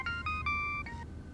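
A phone ringtone plays a short melodic sequence of bright electronic tones, clear and close, with no talking.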